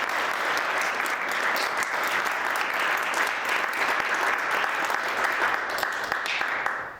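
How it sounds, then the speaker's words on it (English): An audience at a public talk on transforming public libraries in Kenya breaks into sustained, dense applause that holds steady for several seconds before tapering off at the end. "Can we please give a round of applause?"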